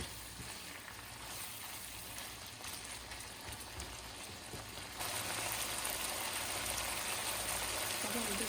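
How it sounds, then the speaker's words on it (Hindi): Homemade dressing poured into chicken cooking in a pan, giving a dense hissing sizzle that jumps louder partway through as the liquid hits the hot surface, close and continuous. "अब हम इसके अंदर में हाफ कप ड्रेसिंग डाल देंगे।"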